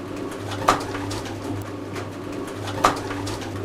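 Pigeons coo softly in a low, steady murmur, with two brief knocks or flutters standing out, close and unaccompanied by talk.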